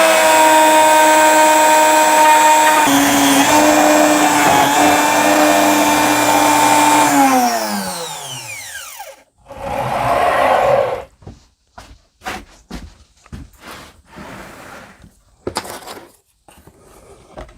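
A router cutting wood for a river table whines loudly and steadily, then spins down, followed by scattered knocks and handling noises as the work is repositioned.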